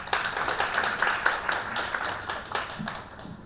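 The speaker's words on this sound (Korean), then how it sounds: "큰 박수로 맞이해 주시기 바랍니다." An audience at a youth education forum welcomes presenters with applause, a lively burst of many hands clapping with a few distinct nearby claps that tapers off toward the end.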